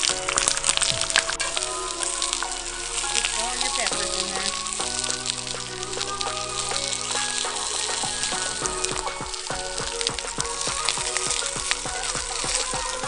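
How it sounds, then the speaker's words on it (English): Vegetables, jalapenos among them, fire roasting in olive oil for salsa give off a loud, steady sizzle and crackle with frequent sharp pops throughout. "Start roasting those."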